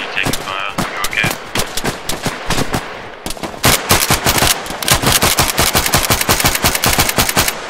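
Rapid bursts of automatic gunfire from the military shooter game ArmA III, loud sharp cracks that come in dense, continuous volleys with only brief pauses.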